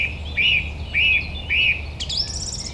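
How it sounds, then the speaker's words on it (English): A song thrush singing on a Welsh hillside golf course: three clear, repeated whistled phrases about half a second apart, then a brighter trilling phrase, fairly close over quiet background hiss. "Almost as good as the song thrush, that."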